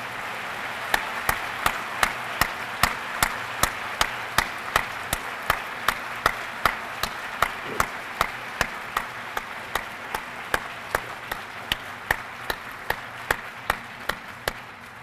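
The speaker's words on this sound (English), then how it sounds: "Ladies and gentlemen, a round of applause." Applause at a Marine recruit graduation ceremony: crisp, evenly spaced claps in a slow, steady beat over a low background hum, continuing for the whole stretch.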